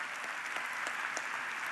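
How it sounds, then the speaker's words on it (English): Audience at the NCLR awards gala applauding, a brief, even spatter of many hands clapping, moderately distant. "let's give them a round of applause"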